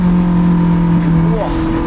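A Lotus Elise on the Sustenpass mountain road gives a short throttle blip during a downshift: a loud, close, steady engine drone swells briefly upward near the end, with a voice speaking over it.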